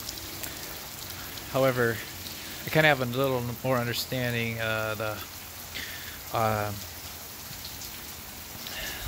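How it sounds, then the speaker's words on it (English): Torrential rain keeps up a steady hiss throughout, with someone talking over it in several phrases. "it began to rain. Pretty torrential."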